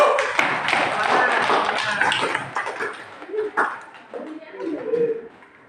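Classroom applause for a student group at a junior high school in Cidaun, a burst of many hands clapping at close range that thins out, with people talking over it.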